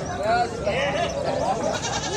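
Goats bleating at a livestock fair in Cariatá, Itabaiana, Paraíba, with cattle pens nearby; several wavering bleats rise over constant crowd chatter and market noise at moderate distance.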